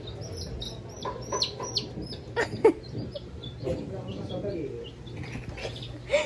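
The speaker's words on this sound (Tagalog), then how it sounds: "Ang liit-liit niya, takot ka. May sisiw eh." A tiny baby chick peeps in repeated high, thin chirps at close range, scattered irregularly among low background sounds and some nearby voices.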